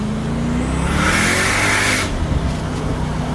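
A Mercedes-AMG CLK DTM Cabriolet engine roars as the car accelerates hard, a loud, close, rising surge that swells for about a second before easing back to a steady drone.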